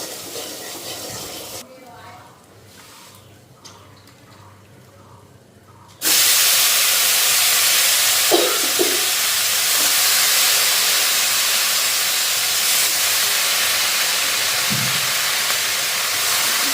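Spice paste with turmeric and salt hits a hot pan and erupts into a loud, sustained frying hiss with a few clicks, after several seconds of quieter room sound with a voice.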